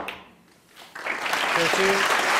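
A snooker crowd at a 2015 quarter-final at the Crucible starts clapping about a second in, building to full, steady applause behind a commentator's voice.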